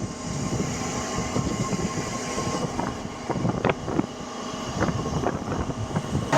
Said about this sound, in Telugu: భువనగిరికి మన ట్రైన్ చేరుకుంది